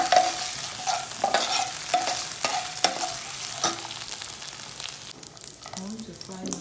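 Tomato fries in a pan with mince seasoned with coriander, thyme, onions, ginger and pepper sauce, a steady sizzle broken by repeated scraping spoon strokes, close and moderately loud, with no talking.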